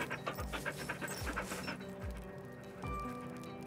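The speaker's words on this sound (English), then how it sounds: "this puppy doesn't want to be pet yet" A puppy pants in the video game The Red Lantern, with rhythmic breathy bursts recurring about once a second, fairly quiet over a steady low game hum and faint tonal background.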